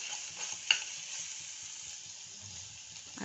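Ginger garlic paste sautés in a pan for Kerala-style roast chicken, giving a soft, steady sizzle with one brief clink of a spoon near the start.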